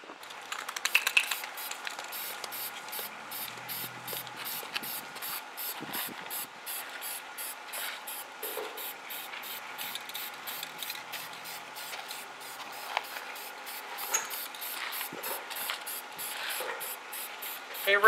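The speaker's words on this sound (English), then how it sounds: "That's one coat of that primer, Phil?" Primer sprayed onto propeller parts during a refinish: a steady close hiss from a spray gun, with the spray pulsing on and off in short, regular bursts throughout.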